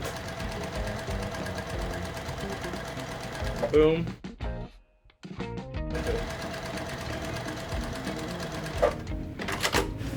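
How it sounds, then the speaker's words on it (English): A sewing machine runs quarter-inch seams down both sides of pre-cut fabric pieces, whirring steadily, stopping briefly midway and then starting again. A short spoken word comes near the end. "Going onto the sewing machine, 1/4 inch seam down both sides."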